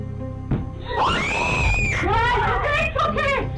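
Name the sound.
people screaming in a ghost video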